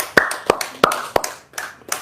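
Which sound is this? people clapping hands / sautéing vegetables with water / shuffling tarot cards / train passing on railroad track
people clapping hands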